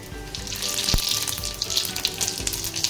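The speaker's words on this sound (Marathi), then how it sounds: "तेल आपलं छान गरम झालं आहे तर हा आपण खडा मसाला टाकून घेऊया जिरे" Whole spices and cumin seeds sizzling in hot oil for chicken biryani, a loud continuous hiss with crackling spits and one sharp clatter early on, no voices.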